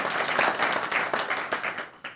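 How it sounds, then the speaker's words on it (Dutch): Audience applause at a recorded panel event, a thick burst of many people clapping that stays strong and then thins and tapers off toward the end, heard close and without talk over it. "Oké, applaus voor Rens."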